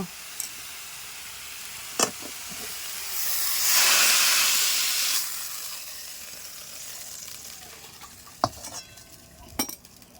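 Chicken pieces frying in a kadai, a soft steady sizzle rising into a louder hissing burst of steam in the middle, punctuated by a few sharp metallic clinks of a utensil against the pan.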